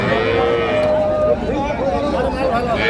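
A cow and calf low at a busy cattle market in Ambari, Dinajpur. Repeated wavering moos sound close, over a constant babble of crowd chatter and people talking nearby.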